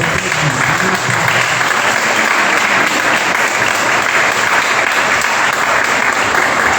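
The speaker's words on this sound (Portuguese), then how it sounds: "Nós vamos dar um aplauso bem forte, amém, irmãos?" A church congregation gives loud, sustained applause, a thick, even wash of clapping that holds steady for several seconds without letting up.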